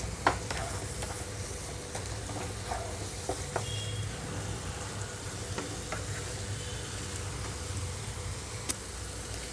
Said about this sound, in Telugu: ఒక రెండు నిమిషాల పాటు మీడియం టు హై ఫ్లేమ్లో ఉంచి వేయించుకుంటున్నాను